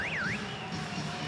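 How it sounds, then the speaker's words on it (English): A brief warbling electronic tone, likely the timeout buzzer, sweeps up and down for under half a second at a men's volleyball World Championship match between Brazil and France, over a steady arena crowd murmur. "And there's the buzzer."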